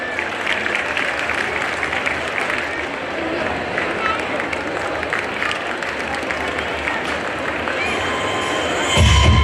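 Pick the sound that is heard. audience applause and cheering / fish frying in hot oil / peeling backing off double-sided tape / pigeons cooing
audience applause and cheering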